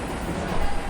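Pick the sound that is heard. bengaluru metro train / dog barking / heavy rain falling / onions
bengaluru metro train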